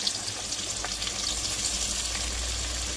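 Sliced onions fry in a pan with a dense, even sizzle that holds steady throughout, close and moderately loud, with a low background hum and no talking.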